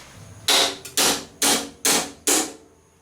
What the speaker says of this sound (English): only thing that's left to do now is see if we can actually break it